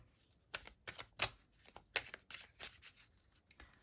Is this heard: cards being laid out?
yes